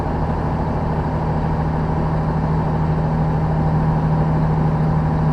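A truck's Jake engine brake holds it on a steep descent, a steady loud droning rumble that runs continuously and alone throughout.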